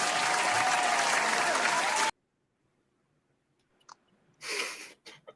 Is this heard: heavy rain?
no